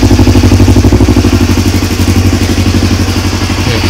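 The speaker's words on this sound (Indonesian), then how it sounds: "Saya hidupkan motor." A Yamaha R25 motorcycle engine idles loudly and close up, its steady pulsing chug holding an even rhythm throughout.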